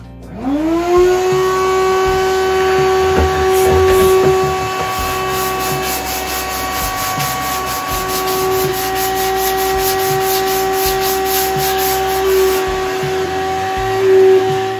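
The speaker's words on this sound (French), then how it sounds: "moi ce que je fais, c'est un coup d'aspirateur." A vacuum cleaner roars loudly and steadily close by, with a high whine and a scraping, rubbing noise as the nozzle moves over a Darex jack plane being restored.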